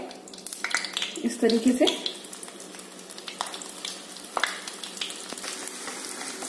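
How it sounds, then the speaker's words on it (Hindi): Boiled potatoes sizzle as they are tipped into hot ghee for a fasting-style potato halwa. The frying is loud and close, with a burst of stirring and scraping early on, and a person talks over it. "ये घी गर्म हो गया तो यहाँ पे जो आलू हमने लिए हैं उबले हुए, इनको डाल देंगे सारे"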